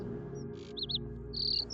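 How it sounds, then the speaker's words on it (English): Birds chirp faintly in a forest, a few brief high tweets scattered over a low steady background hum. "you're also able to hear the sounds of birds chirping"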